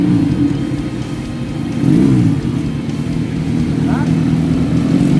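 A Honda Monkey motorcycle fitted with a 250cc twin-cylinder engine runs close by with a steady, loud idle hum, swelling in a brief rev about midway, while people talk over it.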